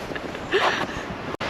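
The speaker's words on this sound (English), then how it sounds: "it is extremely windy today" Steady rumbling wind buffets the microphone, with a brief gust swelling midway and a short dropout near the end.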